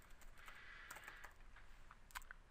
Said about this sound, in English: Now, if I just type in here,